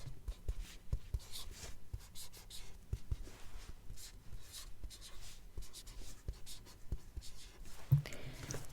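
Handwritten Japanese characters being written at close range, a soft scratchy pen-on-paper sound in short irregular strokes, quiet and intimate, with no talk over it.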